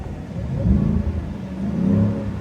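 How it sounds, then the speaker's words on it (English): A 2024 Ford F-150 Shelby Super Snake engine revs up and settles back, then rises again in a smooth, steady rumble close by. "See, the revs are nice and smooth."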